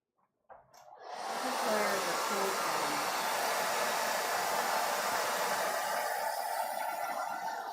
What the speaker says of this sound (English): that's where your blow dryer comes in with the cool setting because it just gets it to set real quick